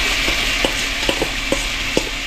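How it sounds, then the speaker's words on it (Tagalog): Coconut milk is added to crabs cooking in a pot, with a steady close sizzle and bubbling broken by a few soft stirring knocks. "Ngayon naman po, maglagay na tayo ng ating gata"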